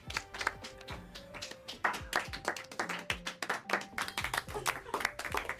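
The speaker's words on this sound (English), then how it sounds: "Let's all start clapping." Several hands clap in quick, uneven bursts, close and crisp, with scattered claps overlapping one another.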